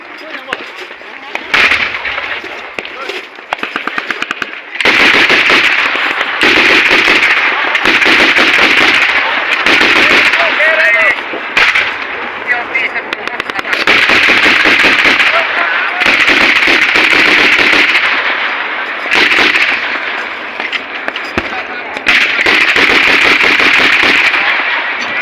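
Live artillery and gunfire at a frontline combat practice field crack out in loud, repeated blasts and rapid bursts, close and harsh, over about twenty-five seconds with short gaps.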